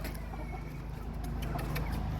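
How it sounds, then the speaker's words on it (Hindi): A hen clucks softly and intermittently while being fed on a rooftop farm, the calls faint over a steady low background hum. "ये हमारी वो कुरुक मुर्गी"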